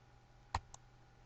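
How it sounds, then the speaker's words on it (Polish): A single computer mouse click while working in an Excel spreadsheet, followed by a fainter second click a moment later; both are sharp, close and quiet, with no talking. "Klikam OK."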